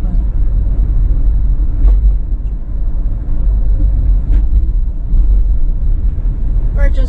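Car driving through a residential neighborhood in Oyster Bay, Nassau County, Long Island, heard from inside as a steady low rumble of engine and road noise with a few faint clicks and rattles.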